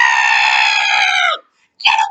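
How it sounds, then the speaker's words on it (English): A woman's high, sustained scream of terror rings out loudly for over a second, breaks off into silence, then a second shrill cry bursts in briefly at the end. "Courtney screamed in terror, coming face to face with Blossom."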